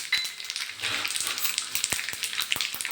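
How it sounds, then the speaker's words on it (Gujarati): Mustard seeds, sesame seeds and curry leaves crackle and sizzle in hot oil for a dhokla tempering, a steady close frying hiss with sharp pops scattered throughout. "તો રઈ બધી ચટકી ગઈ છે તો હવે તલ લઈ લેશું ત્યારબાદ આપણે લીમડી લઈ લેશું"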